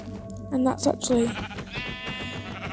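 Sheep bleating in a video game, the animal eating grass to regrow its wool, with a few clear bleats rising over a player talking throughout.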